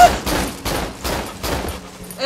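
Gunfire in the survival horror game Cry of Fear, a few loud bursts of shots spaced roughly evenly apart, with dark game ambience between them.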